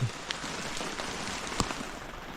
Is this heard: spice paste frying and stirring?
no